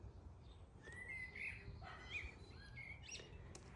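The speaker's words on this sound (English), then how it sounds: "I hope you can hear over the blackbird that's singing his heart out in the tree above." A blackbird singing in a tree overhead in a garden, faint, fluty warbling phrases drifting in from above over a low outdoor background hum.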